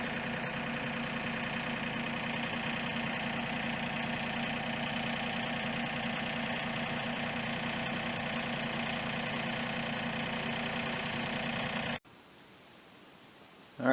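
A John Deere 3025e compact tractor engine idles with a steady, loud, even drone that runs unbroken for about twelve seconds before stopping abruptly.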